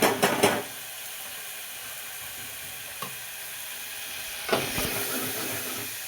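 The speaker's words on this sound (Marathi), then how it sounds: "आपला डाळीचा याचा फोडणीचा आवाज पण छान असं चुरचुर येतोय" Dal tempering (phodni) sizzles and crackles in a hot pan, with louder bursts of spattering at the start and again near the end and a steady low fizz in between, no voices.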